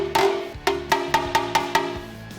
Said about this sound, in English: so I'm gonna just my body hammer and tap it in.